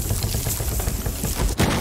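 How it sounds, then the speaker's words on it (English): Ace breaching charge detonating in Rainbow Six Siege, a dense burst of crackling blasts and debris with a sharp louder hit near the end, continuous and close with no talk. "The explosion of the Ace charge"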